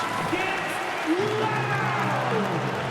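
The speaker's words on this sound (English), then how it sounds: "Fans, please give a big round of applause for your dance team." Arena crowd noise in NBA 2K24 during a Lakers home game, a steady roar of applause and cheering running under a public-address announcer's voice.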